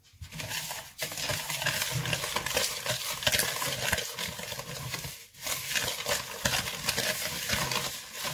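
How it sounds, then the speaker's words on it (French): Tiramisu ingredients with a sachet of vanilla sugar being stirred in a bowl, a steady close scraping and swishing of utensil against the bowl with brief pauses. "Et nous allons mélanger."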